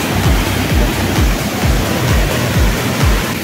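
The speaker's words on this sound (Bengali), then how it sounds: "সেইখান থেকে ঝর্ণাটা আসছে।" Waterfall at Dawki, Meghalaya, a steady broadband rush of falling water that fills the whole clip, with a repeating low thudding pulse running beneath it.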